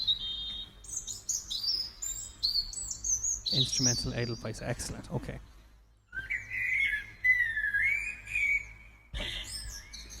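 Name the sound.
recorded birdsong from a garden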